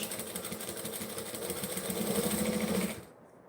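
A sewing machine runs a back stitch with a fast, even mechanical whir and rhythmic needle chatter, close and steady for about three seconds before stopping abruptly.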